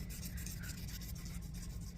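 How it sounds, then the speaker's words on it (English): Sandpaper rubbing over a small carved soapstone star sculpture, curved around one of its thin arms; a quiet, close, continuous scratchy rasp of steady back-and-forth strokes. "I'm just curving the sandpaper over the little tentacle"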